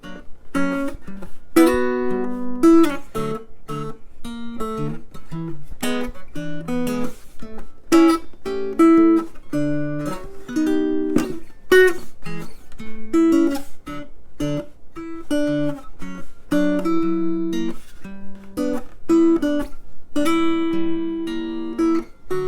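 A mountain dulcimer picks out a bluesy tune, with crisp individual notes and a steady fingerpicked rhythm, played solo and close.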